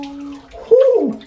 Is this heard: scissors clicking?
no